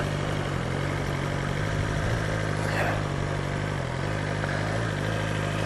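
Motorcycle engine held at raised RPM while slipping the clutch through a slow-speed riding drill, a steady close drone under strong wind buffeting with a faint rise near the middle.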